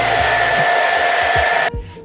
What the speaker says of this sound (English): I'm going to need a hairdryer.